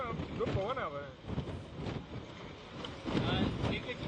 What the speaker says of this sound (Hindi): यहाँ पे जो है तेज हवाएं चल रही हैं।